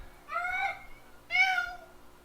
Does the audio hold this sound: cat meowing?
yes